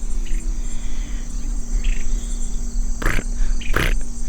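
A cricket chirps steadily outdoors, with a bird calling briefly in the background and no talk.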